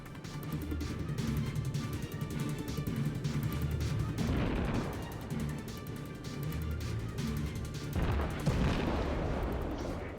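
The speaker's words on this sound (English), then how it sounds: "So just firing a few ranging shots and missing." Warship guns firing ranging shots in the World of Warships game, a sequence of booming artillery blasts with rumbling tails over a constant engine and sea drone, two heavier salvos standing out.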